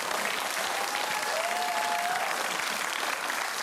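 A studio audience at a satirical comedy show applauds in a continuous, even roar of clapping that holds steady and loud throughout.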